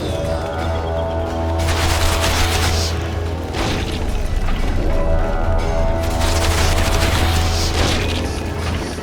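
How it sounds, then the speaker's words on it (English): Battle gunfire in The Witcher 2, loud bursts of rapid shooting and booming impacts that rise and fall over several seconds amid a dense, chaotic combat din. "Take cover! They're shooting!"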